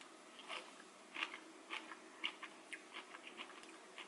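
Someone bites into a long, crunchy green bean, producing a series of quiet, crisp crunches in an uneven rhythm, close to the mouth, with no talking.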